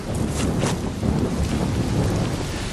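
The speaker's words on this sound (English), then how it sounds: "The rain's back." Steady heavy rain pours with low rumbling thunder rolling beneath it, a radio drama sound effect set in a forest.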